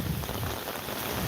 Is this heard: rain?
yes